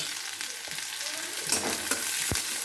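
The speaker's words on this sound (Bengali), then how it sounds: "পেঁয়াজগুলো দিয়ে নেব একটু হালকা করে ভেজে নেব পেঁয়াজটা" Sliced onions sizzling in hot oil with nigella seeds while being stirred in a pan, a loud continuous hiss of frying broken by a few scraping strokes of the spatula, with no voices.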